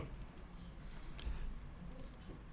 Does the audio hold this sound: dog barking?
no